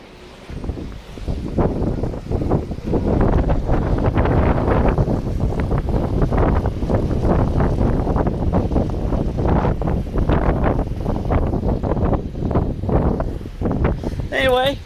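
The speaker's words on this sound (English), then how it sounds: "just wanted to show a couple of minutes of action on a windy day" Strong wind on a windy day roars and buffets the microphone in a continuous loud rush with gusty surges, and a voice talks briefly over it.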